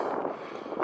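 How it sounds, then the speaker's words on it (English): Wind buffets a camera microphone while riding a bike on a windy day, a steady rough broadband rush with gusty swells, loud and close throughout. "it's kind of windy today, so this is gonna be perfect because the wind gonna be blowing over the camera"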